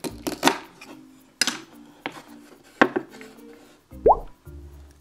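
A toy knife chops through a toy kiwi in a series of sharp plastic clacks and knocks, close and distinct, spaced irregularly with a final clattering hit.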